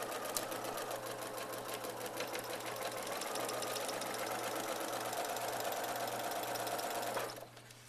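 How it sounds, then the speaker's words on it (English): A sewing machine stitching a curved quilt fabric seam runs in a fast, steady mechanical chatter for about seven seconds, close and clear, then stops abruptly, leaving a low background hum. "I'll feed the fabric through the machine in such a way that those 2 edges stay together all the way through, regardless of the curves"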